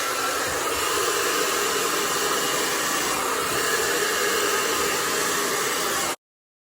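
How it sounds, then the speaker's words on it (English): A handheld blow dryer roars steadily while drying hair with a brush, a loud continuous airy whoosh running unbroken for about six seconds before cutting off abruptly. "I've never had a blow dryer that had a medium heat setting."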